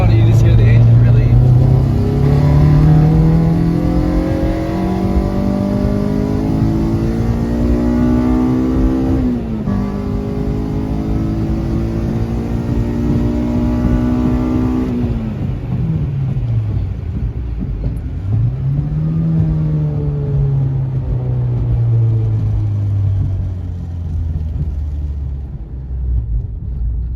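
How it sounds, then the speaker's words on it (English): A Honda Civic EK with a swapped K24 engine revs up repeatedly, its pitch climbing and dropping through gears in a loud, close, rumbling drone with a steady exhaust note throughout. "When you get on it, you just hear the engine really."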